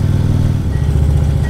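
Motorcycle engine rumbling on the Fundy Trail Parkway, a loud close throaty pulse that shifts pitch briefly as the bike rides on.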